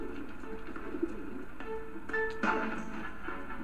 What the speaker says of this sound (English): There are pigeons here.